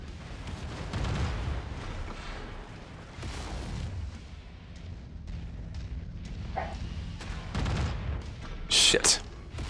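Booming mech combat in MechWarrior 5 as a Jagermech fires its autocannon, with low rumbling blasts and impacts under talk and a sharp crackling burst near the end.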